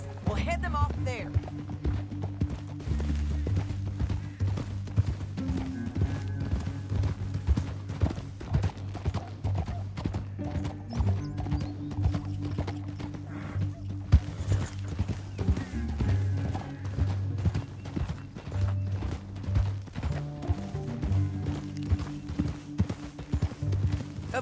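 Galloping horse hooves in Red Dead Redemption 2, a fast continuous clatter with occasional snorts, under steady music and voices talking throughout.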